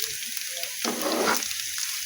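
Drumstick (moringa) stems frying in a pan, a soft, steady sizzle with a brief louder burst of crackling in the middle.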